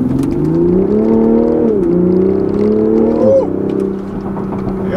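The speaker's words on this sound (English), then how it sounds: "Let's give it a little gas here." A 2020 Toyota GR Supra accelerates hard with its wheels spinning, the engine note rising loud and steady, dipping briefly as it shifts, then easing off.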